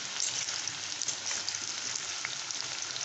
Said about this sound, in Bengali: আমি তেলের মধ্যে ছেড়ে দিচ্ছি আরও কিছুটা পরিমাণে চিপস।